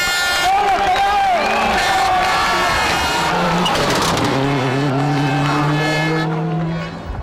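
A WRC rally car on a special stage of the 1999 Catalunya Rally, engine revving and shifting through loud, rising and falling pitches, with a crowd and a voice heard beneath it.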